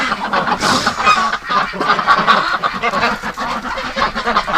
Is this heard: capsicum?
no